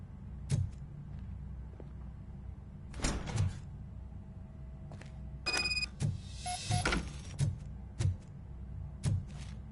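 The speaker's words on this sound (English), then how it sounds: "Now let me get that door open for you." A door opens in the Robocop: Rogue City video game: a series of mechanical clunks and thuds with a brief sliding whir and metallic rattle, spaced out over several seconds against quiet background.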